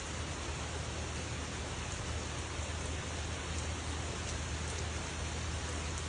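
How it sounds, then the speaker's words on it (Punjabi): Steady rain pours continuously on a late-May day in Canada, a dense unbroken hiss of drops on surfaces with no voices and no let-up. "ਮੀਂਹ ਪਈ ਜਾਂਦਾ ਮੀਂਹ ਪਈ ਜਾਂਦਾ"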